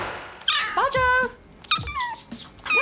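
A cat in the Professor Layton and the Last Specter video game meows several times in quick succession, loud and close, with bending, whiny cries separated by short gaps.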